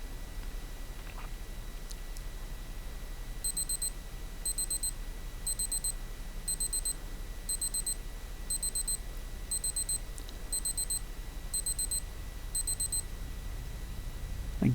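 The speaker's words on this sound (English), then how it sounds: "let's just do a 5-second countdown so you can see what the alarm is like." Casio AE-1200 digital watch sounding its countdown alarm: ten evenly spaced bursts of rapid high-pitched beeps, each about half a second long, repeating roughly every second over a steady background hiss.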